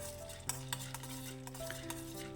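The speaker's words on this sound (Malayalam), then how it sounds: "നന്നായിട്ട് തീ കുറച്ച് ഇളക്കി കൊടുത്തുകൊണ്ടിരിക്കണം" Peanuts stirred and roasted in a pan over a low flame, quiet rhythmic scraping and rattling strokes repeating every fraction of a second over a faint background hum.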